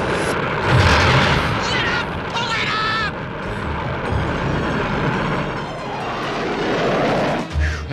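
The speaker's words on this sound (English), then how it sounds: "I'll get the power thrusters!" Cartoon spaceship power thrusters roaring as the craft struggles to climb: a loud, continuous rumbling blast fills the whole stretch, with a faint voice and a rising whine mixed in.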